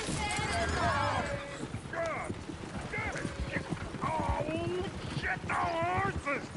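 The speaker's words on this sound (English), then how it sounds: "Shit, the horses!" Horses in the video game Red Dead Redemption 2 whinny repeatedly over a continuous clip-clop of hooves, with rising-falling neighs scattered through the clip.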